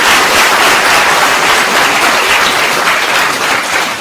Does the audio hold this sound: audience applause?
yes